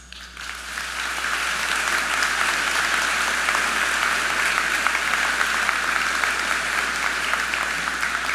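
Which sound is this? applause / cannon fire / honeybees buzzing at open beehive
applause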